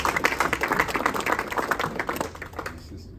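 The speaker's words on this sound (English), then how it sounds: "A round of applause as he comes." Audience applause at a Kenyan diaspora event, a sparse patter of separate claps that thins out and fades toward the end.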